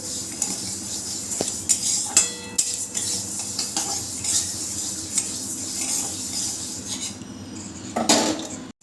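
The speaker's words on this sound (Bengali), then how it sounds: "এবার মুগের ডালটা একটু ভেজে নিতে হবে হালকা একটু লালচে কালার এলেই" Mung dal being dry-fried and stirred in a pan for a vegetarian Bengali dal with bottle gourd, with repeated metallic scrapes and clinks of a spoon against the pan over a steady low sizzle, close and fairly loud, no talking.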